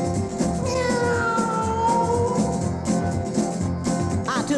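A voice imitates a tiger with a drawn-out, cat-like meow over a loud country music backing, the gliding cry standing out near the end of the passage.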